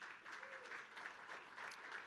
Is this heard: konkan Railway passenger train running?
no